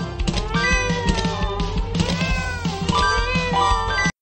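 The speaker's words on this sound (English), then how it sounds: "the snails meow in agony if you don't catch them" Loud, drawn-out cat-like meows serve as snails wailing in agony in a Nickelodeon SpongeBob minigame, layered over game music and cutting off abruptly at the end.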